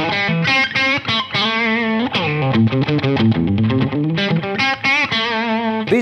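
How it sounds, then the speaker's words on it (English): A Squier Classic Vibe 60s Jaguar electric guitar with Alnico single-coil pickups plays distorted through an amplifier, strummed chords and quick melodic runs ringing out loud and full, with no voices. "Let's get some more tones from this wonderful looking, feeling, playing and sounding guitar."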